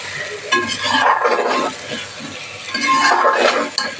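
Eggs mixed with chilli powder and turmeric in a pan, scraping and sizzling bursts in two waves with light clinks of the utensil, close up.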